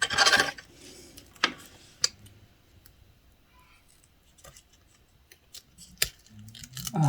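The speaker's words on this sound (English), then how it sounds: "These scissors are terrible to cut this." Scissors snip through very strong tape while a concertina stand-up mini album is being made: a few short, crisp cuts and rasps, close and fairly loud, separated by long quiet gaps.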